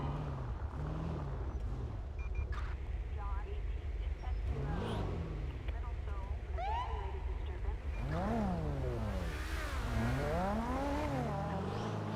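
A car engine idles in the video game GTA V during a FiveM roleplay session, giving a steady low rumble throughout while people talk over it.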